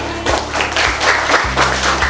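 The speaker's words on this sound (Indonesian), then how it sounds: "Tepuk tangan buat kelompoknya Mas Raffi." A classroom of primary pupils applauds a student group after its presentation, steady mixed clapping throughout with a low hum underneath.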